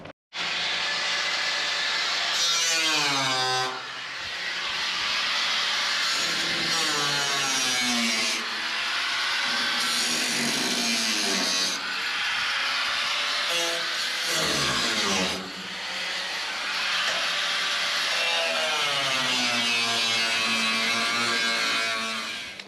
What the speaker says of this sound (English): where's that little die grinder?